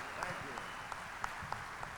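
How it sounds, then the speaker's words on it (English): Applause from a country music show audience for a performer, faint and distant, with sparse sharper claps poking out of a low background. "Nice big round of applause"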